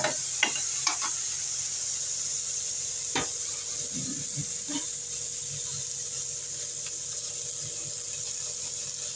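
Adamant creeper (pirandai) sautéing in a pan for thokku: a soft, continuous low sizzle with a few scattered stirring scrapes and taps, fairly quiet and close.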